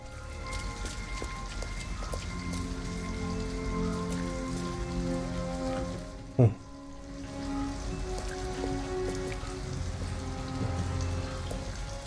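Steady rain pours throughout in the video game Detroit: Become Human, a dense even patter near and loud, with a brief sharp knock near the middle and no speech.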